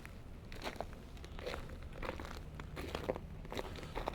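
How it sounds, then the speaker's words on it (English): Faint, irregular crunching footsteps on ice in spiked shoes, soft repeated crackles spaced about half a second apart over a low background hum. "If you do hear some crunch noises, it's because I'm walking on ice with my spiked shoes."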